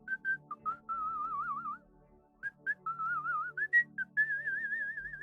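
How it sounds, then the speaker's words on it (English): A person whistles a bright, wavering melody with quick trills and sustained warbling notes, close and clear, in a few phrases broken by short pauses, with no talking over it. "They're whistling gleefully."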